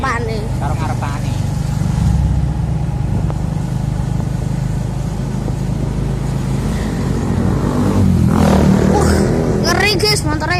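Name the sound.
motorcycle riding on road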